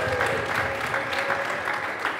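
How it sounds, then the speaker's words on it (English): Audience applause during a hip-hop producers' panel talk, a steady wash of clapping from a crowd that holds evenly throughout. "Can we make some noise for that? Can we applaud that?"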